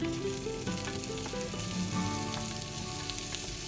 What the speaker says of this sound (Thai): ผัดผัดคนๆ ให้เขาได้รับความร้อนทั่วถึงค่ะ